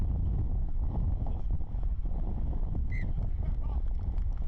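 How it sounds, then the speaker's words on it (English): Strong gusty wind buffets the microphone at an outdoor rugby ground, a continuous loud low rumble that drowns most other sound, with faint crowd or voice sounds behind it. "How strong is that wind?"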